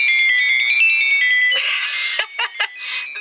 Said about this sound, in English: It's a gamma ray burst.